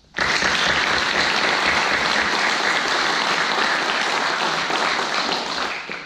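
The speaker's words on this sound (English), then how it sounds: "Ladies and gentlemen, please give these guests of 1160 a round of applause." Loud, sustained applause from a large audience at a Border Patrol Academy class graduation ceremony, a dense wash of clapping that starts abruptly, holds steady for about six seconds, then begins to fade.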